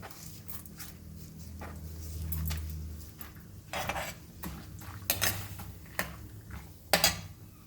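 Urad dal roasting in a pan on low flame, heard as soft scraping and clinking of a spatula against the pan with irregular taps and a low, steady background rumble.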